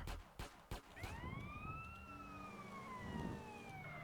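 A police car siren in the GTA San Andreas video game wails with a rising then slowly falling tone over a low engine rumble, after a few short thumps at the start.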